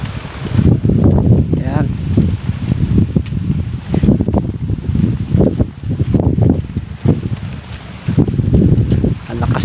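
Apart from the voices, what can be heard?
strong wind whistling overhead during a typhoon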